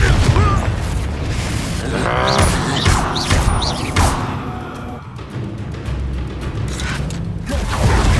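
Spell combat in Hogwarts Legacy with a Confringo fire blast: a dense mix of magical whooshes, crackling impacts and mechanical clatter runs continuously at close, loud level, with shouted voices and spell calls over it.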